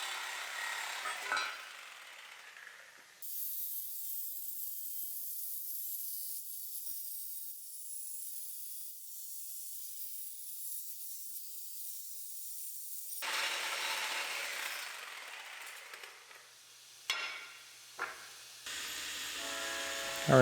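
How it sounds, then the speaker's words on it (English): An old trailer hitch is cut apart with a power tool: a harsh, steady metallic cutting noise runs for about ten seconds, stops, then resumes with a few sharp knocks and rattles. "So we're hacking up an old trailer hitch here."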